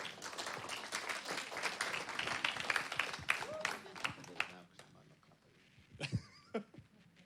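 An audience applauds to welcome a speaker, a full wash of steady clapping that fades after about four seconds, leaving a few scattered claps and quiet room noise.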